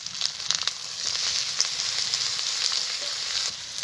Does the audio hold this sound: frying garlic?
yes